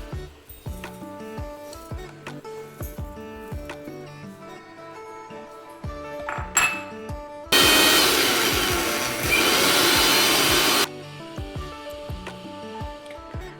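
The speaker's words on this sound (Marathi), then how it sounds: "सर्वप्रथम ओट्स आपण मिक्सरमधून काढून घेणार आहे। त्याची बारीक पेस्ट करायची आहे।" A kitchen mixer grinds oats into fine powder: after a stretch of light clicks and knocks, the motor roars loudly for about three seconds, then stops abruptly.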